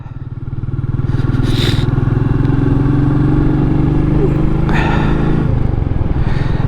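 Royal Enfield Meteor 350 motorcycle riding on the road, its single-cylinder engine thumping steadily and loud throughout, with wind rush and a few brief clatters over the top.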